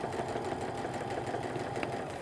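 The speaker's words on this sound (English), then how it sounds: "I'm gonna stitch down close to, but not right on that seam from before" A sewing machine stitching an apron with blue thread beside an earlier seam, a steady close mechanical whir running throughout with no voices.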